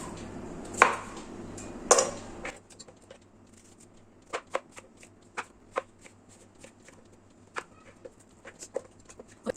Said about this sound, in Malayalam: ഇത്രയും കനത്തിൽ വേണം നമ്മളിത് അരിയാൻ